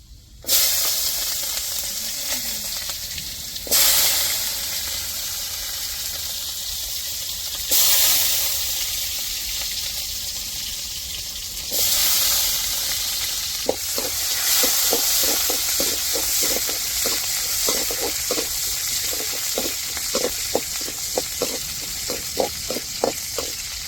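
Oil sizzles and hisses steadily in a pan as fenugreek and shallots fry for a fish curry, with sharp crackling pops growing frequent and soft stirring scrapes throughout.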